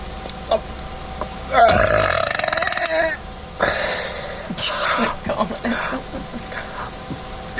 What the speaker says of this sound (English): So the key to a big burp is to swallow air.